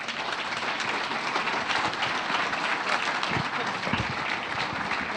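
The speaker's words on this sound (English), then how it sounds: "All right, let's give her applause." Conference audience applauding after a talk, a dense, steady wash of clapping from many hands at moderate distance, continuing evenly throughout.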